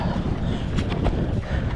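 Strong gusting wind buffets a fishing boat off Port Mansfield, Texas, a steady loud roar of wind noise on the microphone with water sloshing beneath, no voices.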